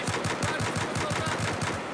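Rapid automatic gunfire from a first-person shooter on a 120 Hz server, a steady burst of evenly spaced shots running the full two seconds, loud and close with no talk over it.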